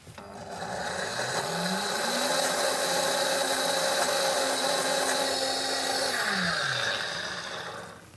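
A blender whizzes olive oil and red wine vinegar into a dressing, a steady close motor whir that ramps up, holds for several seconds and winds back down.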